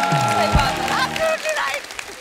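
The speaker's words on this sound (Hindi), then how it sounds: "जोरदार तालियां हो जाए।" Studio audience applause on a TV comedy talk show rises briefly under music and voices, then fades within a couple of seconds.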